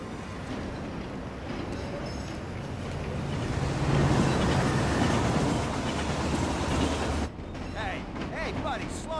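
A train rides on rails with a steady rumbling roar that swells in the middle and cuts off briefly near the end, under a faint background voice.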